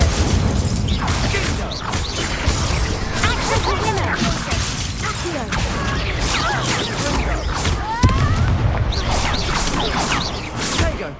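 Incendio fire spell cast in Hogwarts Legacy amid a duel, loud whooshing bursts and crashing impacts layered with battle effects and shouting voices throughout.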